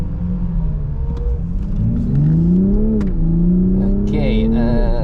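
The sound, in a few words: Toyota Supra with Bilstein suspension driving laps on Dijon track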